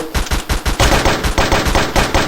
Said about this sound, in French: le mec va tirer sa roquette